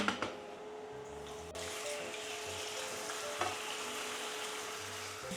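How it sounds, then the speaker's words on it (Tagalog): Chicken cooking in a little oil in a pan, a steady soft sizzle and frying hiss throughout, close but fairly quiet, with a couple of light utensil knocks and no talk. "Kasi i-grill natin yung chicken."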